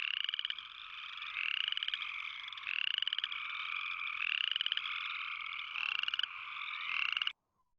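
A chorus frog from eastern West Virginia calls in a steady series of rapid rising trills, fairly close and clear, repeating without pause for about seven seconds before stopping abruptly.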